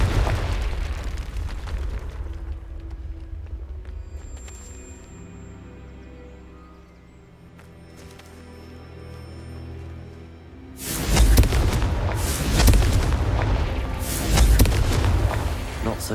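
Confringo blasting spells exploding in the game Hogwarts Legacy, a quieter buildup with ringing tones, then a burst of loud, booming fiery blasts in quick succession.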